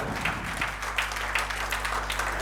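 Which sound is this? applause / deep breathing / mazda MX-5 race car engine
applause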